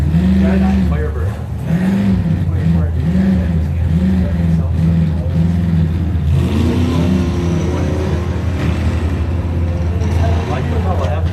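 Pontiac Firebird drag racing car with carburetor trouble idling and revving in the right lane, a loud close engine with repeated rising-and-falling blips under a track announcer's voice.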